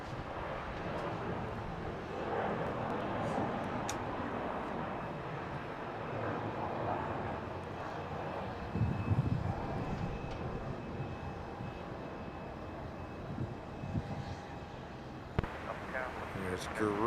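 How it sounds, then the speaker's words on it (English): A Garuda Indonesia Airbus A330 airliner at Melbourne Airport produces a steady, broad jet-engine roar that persists throughout, with voices talking over it. "There's Garuda with their A330."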